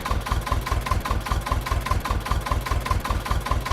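A small engine of a Bizon Z056 combine harvester idles steadily nearby, a fast, even chugging pulse that stays constant throughout.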